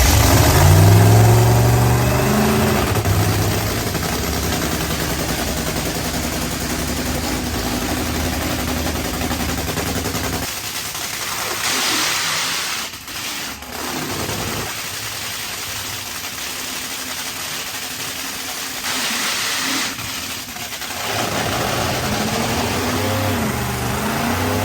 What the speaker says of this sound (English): Hit the throttle twice, and then we'll shut it off.